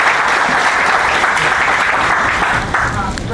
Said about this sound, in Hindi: थैंक यू जोरदार तालियां।